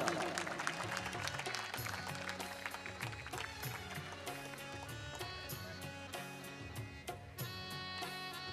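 Audience clapping during a girls' matric prize distribution ceremony at a school, a dense clatter of hands over a musical tone with distinct sharp claps, lasting several seconds.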